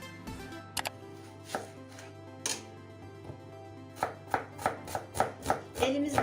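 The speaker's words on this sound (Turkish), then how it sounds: "Ben kuru soğanımı ve sarımsaklarımı doğrayacağım." A knife chops onion and garlic sharply on a cutting board: a few scattered strikes at first, then a quicker, steady run of cuts near the end, close and clear.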